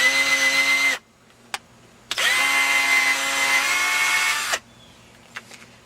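A power drill boring a hole into a wooden bonsai shelf board, two loud sustained whirring bursts separated by a short pause, with faint clicks and handling noise afterward.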